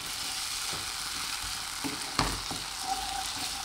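Spice paste for cassava leaf curry fries in hot oil with a steady, close crackling sizzle, punctuated by a few soft stirring taps and scrapes, with no talking.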